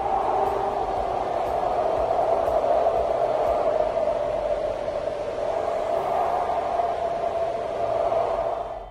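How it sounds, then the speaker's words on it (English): Steady wind blowing on a windy day, a continuous broadband rush with a hollow whistling tone that holds level and loud throughout, with no voices. "Sounds like a windy day."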